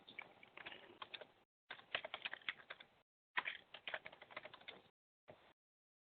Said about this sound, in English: You can type in a description if you want.